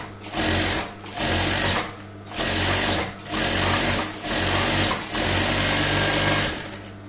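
A sewing machine gathers fabric using a sewing needle instead of a gathering foot, running loud and close in several steady bursts of rapid stitching separated by short pauses.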